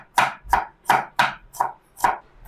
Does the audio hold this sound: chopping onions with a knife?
yes